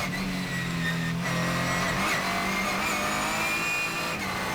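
A Ligier JS2R race car is heard from onboard on a circuit. Its engine holds a loud, steady drone with shifting pitch as it accelerates, with brief dips around gear changes.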